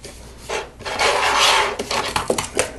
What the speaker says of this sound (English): This all slides through the slides through the back of the pullback motor, just like that.